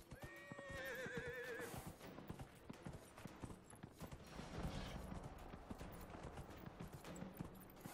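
A horse ridden in the fantasy video game Dragon Age Inquisition, giving a clear whinny followed by steady clip-clop hoofbeats at a gallop, quiet and mixed with game ambience.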